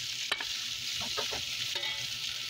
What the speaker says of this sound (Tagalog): Para masarap ang ating niluluto na humba, ay ipiprito natin una.